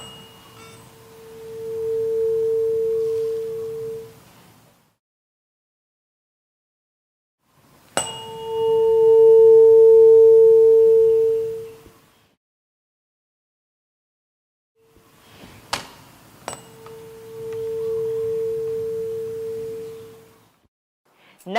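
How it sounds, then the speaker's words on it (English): Pure steady tone of a struck tuning fork resting on top of a water-filled cylinder, sounding three times for several seconds each with silent gaps between, a sharp tap starting each. "let's sound the tuning fork and place it on top of each cylinder"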